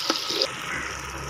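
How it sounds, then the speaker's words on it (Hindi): Water poured into a pot of simmering dhaba-style chana dal masala with finely chopped green chilies, a short close splash and trickle that fades into a soft bubbling sizzle. "थोड़ा सा पानी और डाल लेंगे।"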